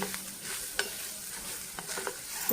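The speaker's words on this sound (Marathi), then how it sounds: "आपलं तर मूग आणि मटकी आता मिनिटभर परतून झालेलं आहे" Mung beans and matki being stirred and sautéed in a pan, giving scattered scraping stir strokes over a soft, steady sizzle, close and fairly quiet with no talking.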